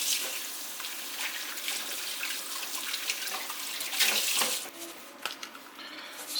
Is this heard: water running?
yes